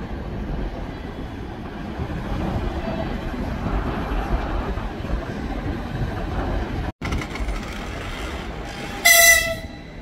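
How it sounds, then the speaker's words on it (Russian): An electric suburban train rolls past near the seafront in Vladivostok, a steady loud rumble of wheels and cars, then a sharp blast of its horn near the end. "Электричка."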